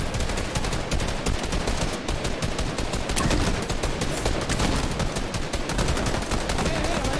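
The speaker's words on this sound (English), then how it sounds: "Yeah, Snowball launcher." Snowball launcher firing in the Fortnite video game: a dense, continuous barrage of rapid weapon shots and impacts, loud and busy throughout with game effects layered over one another.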